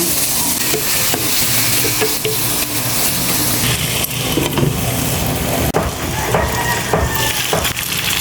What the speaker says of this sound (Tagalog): ipiprito-prito po muna natin guys yung pork